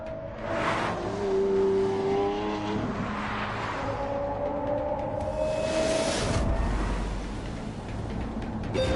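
An electric supercar accelerates hard, its rising whine sweeping upward over steady road and tire roar, loud and close, with a brief squeal-like burst near the end and no talking.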